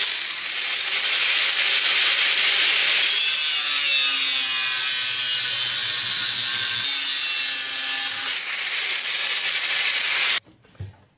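Sheet metal on a car body panel is trimmed with a loud, harsh continuous grinding rasp that shifts pitch slightly and runs for about ten seconds, then stops abruptly, leaving a few brief clanks.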